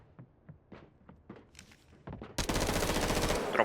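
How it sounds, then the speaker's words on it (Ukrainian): Scattered single shots crack at a distance in the video game Delta Force, then a sustained loud burst of rapid automatic fire takes over and runs to the end. "я чую, що вони там, що люди в ботів стріляють"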